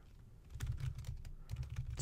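Typing on a computer keyboard during a coding lesson, a run of quick key clicks in two bursts, close and clear with no talking over them.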